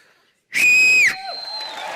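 A loud, sharp whistle is blown once in a long shrill blast on a comedy show stage, followed by a lower, softer tone and background murmur.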